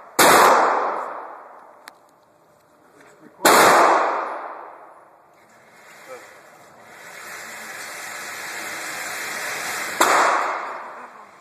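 Loud, sharp shots from a Springfield XD .45 pistol fired outdoors, three cracks spaced several seconds apart, each followed by a long ringing decay, with background noise and hiss filling the gaps.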